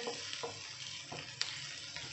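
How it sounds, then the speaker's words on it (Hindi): Garlic frying in a pan gives a steady, close sizzle that holds for a couple of seconds, with a few soft stirring scrapes and one sharper tap, and no talking. "थोड़ा सा 10 सेकेंड के लिए लहसुन को फ्राई करेंगे।"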